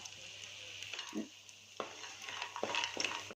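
Masoor dal bori frying in hot oil: a quiet, close sizzle with several stirring scrapes and light utensil knocks, cut off abruptly at the end.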